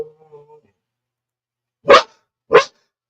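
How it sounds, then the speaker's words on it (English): A dog gives two loud, sharp barks close by, spaced about half a second apart, following a short stretch of faint voice. "Hey, don't you bark at me."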